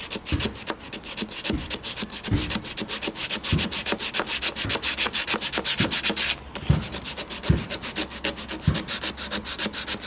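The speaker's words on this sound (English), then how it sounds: "So now I'm just sanding this part because it's like attached" Someone hand-sands a walnut mid-century modern dresser up close, producing a steady series of rhythmic abrasive strokes, about ten in all, with no talking.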